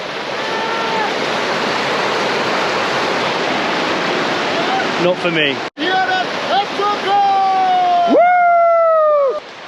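A freezing glacial river in Bhutan rushes in a loud, continuous roar, while people shout and talk over it and a voice calls out with sliding tones near the end.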